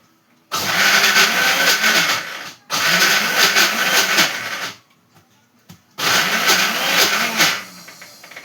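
A kitchen mixer grinder whirs loudly while grinding onion paste with a little water, running in three long bursts of about two seconds each, separated by short pauses. No voices are heard.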